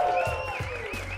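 Audience applause for a comedian at a Chicago comedy show, a short steady burst of clapping filling the room, with tonal background sounds over it.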